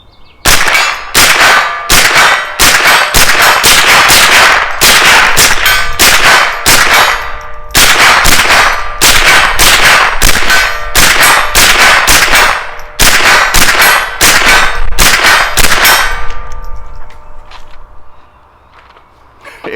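Rapid strings of loud .22LR shots from a Smith & Wesson M&P 15-22 carbine crack in quick bursts, each hit ringing a silver steel gong at 50 yards, the metallic ring fading after the final shots.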